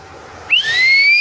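A single whistle blown at a political rally for Tamilaga Vettri Kazhagam, whose party symbol is the whistle. A shrill rising tone enters midway and holds steady, loud over faint background noise.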